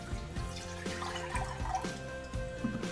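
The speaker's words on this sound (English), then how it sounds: "In goes the water." Water pours steadily into a cooking pot while making osmanthus goji berry jelly, a continuous close splashing and trickling with small drips, with no talk.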